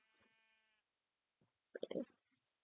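A Minecraft sheep gives a faint bleat near the start, and a louder, closer burst of sound follows near the end.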